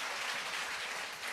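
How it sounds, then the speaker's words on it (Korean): Applause from a church congregation during a Sunday worship service, a steady broadband patter of many hands clapping together throughout the brief moment, fairly even in level with no voices. "박수 한번 쳐주시기 바랍니다"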